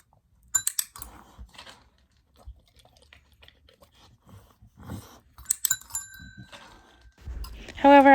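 Gaia, a dog in training, rings a small bell with a bright metallic ding near the end, following soft shuffling, handling noises and light clicks close by.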